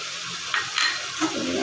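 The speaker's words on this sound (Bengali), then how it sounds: "এবার আমি দিচ্ছি এর সাথে পোস্ত আর সর্ষে বাটা।" Poppy seed and mustard paste dropped into a fish curry sizzling in a pan, giving a steady hiss with a few soft clinks and stirring scrapes.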